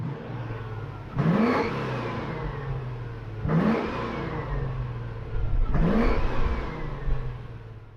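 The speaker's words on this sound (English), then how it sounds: "I'm driving a 1990 Range Rover Vogue SE" A 1990 Range Rover Vogue SE drives along, its engine note rising through three clear acceleration pulls with gear changes between them, steady road and wind noise underneath, heard from inside the cabin.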